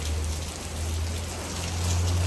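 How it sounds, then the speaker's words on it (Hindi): Heavy rain pours down outdoors in a sudden summer downpour while tree leaves sway, a steady dense hiss with a low rumbling undertone throughout, close and loud with no voices. "घंघोर घटाएं छा गई हैं और ज़बरदस्त किस्म की बारिश शुरू हो गई है"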